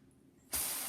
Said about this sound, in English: light spray,